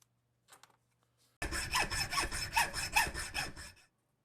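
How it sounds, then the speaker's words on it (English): A saw cuts into wood at marked lines to a quarter inch depth while building a bench planing stop. About two and a half seconds of quick, steady back-and-forth strokes sound close and alone, after a brief quiet lead-in. "I want to make a cut at each one of these lines, and I want to go in 1/4 inch"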